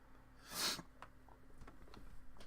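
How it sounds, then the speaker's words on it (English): One sharp, breathy allergy sniffle bursts out close to the microphone, followed by quieter breathing and faint rustles. "Sorry, I got sniffles."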